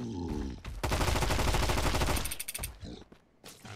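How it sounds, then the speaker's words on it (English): Rapid burst of gunfire in the Mist Survival video game, loud and dense shots rattling for about two seconds, followed by a few scattered sharper cracks and clatter as it tapers off. "But we'll hit him with a couple of bullets."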